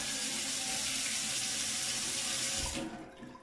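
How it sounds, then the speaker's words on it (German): Water runs steadily from a newly installed kitchen sensor faucet into the sink, a continuous loud hiss that holds for nearly three seconds and then tapers off as the flow stops. "mache hier das Wasser auf."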